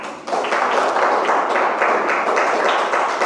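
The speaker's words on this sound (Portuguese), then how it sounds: "Pode se assentar e bater palmas para Jesus." A church congregation claps for Jesus, a dense burst of many hands breaking out suddenly and carrying on steadily. Loud and close, filling the room without pause.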